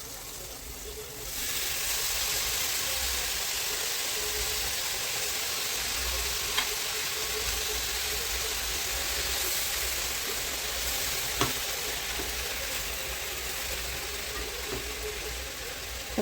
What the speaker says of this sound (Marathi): कांद्याची पात अगोदर कापून स्वच्छ धुवून घेतली आहे, ते आता मी ह्या मसाल्यामध्ये टाकते।